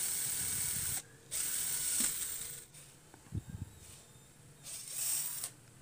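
A drill bores a hole through the centre of a plastic fan blade for a homemade 18V rechargeable table fan, giving loud bursts of high whirring broken by short pauses and a few clattering knocks.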